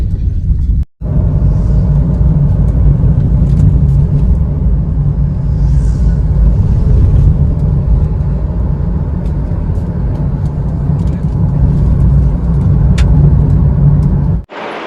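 A four-wheeler car drives along with a loud, steady engine rumble and road noise heard from inside, continuous for the whole stretch apart from a brief dropout near the start.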